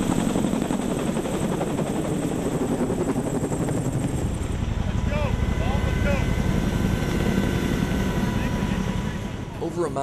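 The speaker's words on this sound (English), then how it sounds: "Over a mountain range adjacent to Salerno, choppers check out their hardware before heading out on a scouting mission." Military helicopters run their rotors over a mountain range near Salerno ahead of a scouting mission: a loud, steady, continuous beating drone that holds for the whole stretch, with a voice faintly beneath it.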